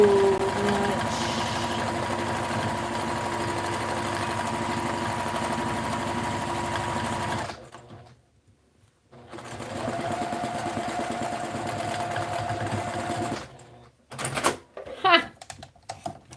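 A sewing machine doing ruler-guided machine quilting runs loud and steady with a fast rhythmic stitching hum, stops briefly, starts again, then ends in a few clatters and handling noises.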